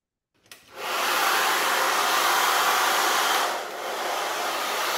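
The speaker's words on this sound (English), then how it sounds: "So I'm going to turn on this hairdryer." A handheld hair dryer is switched on nearby after a brief click. It builds to a loud, steady roar of blowing air and motor hiss, with a short dip in strength partway through. Nobody speaks over it.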